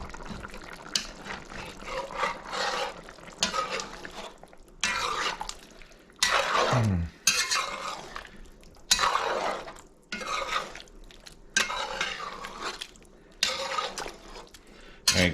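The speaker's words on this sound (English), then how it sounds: "See that there? I'll just smash it in the pot." Potato pieces are smashed in a pot of chicken stew, giving repeated wet squelching knocks and spoon scrapes against the pot, close and moderately loud, with brief pauses between strokes and no talking.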